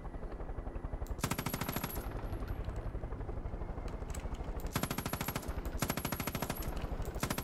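Bursts of rapid automatic gunfire in Far Cry 5, with long rattling volleys at the start and near the end over a steady mechanical drone.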